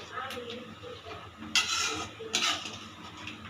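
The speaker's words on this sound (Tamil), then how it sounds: "இப்போ கிழங்க போடுறோம். போட்டு இப்படி ஒரு கலக்கி விடணும்." A spoon stirs elephant foot yam curry in a pot. Soft scraping and swishing runs throughout, with two brighter metallic scrapes against the pot. Close and fairly quiet.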